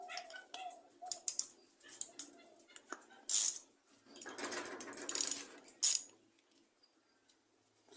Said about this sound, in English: Put our bolt back in the bottom. Tighten it down.